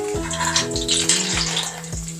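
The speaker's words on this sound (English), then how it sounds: "you hear that sizzle?" A steady hissing sizzle of shortening and butter in a hot pan, with soft repeated low thumps and bubbling underneath.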